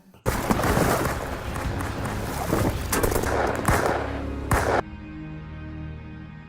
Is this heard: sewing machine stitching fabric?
no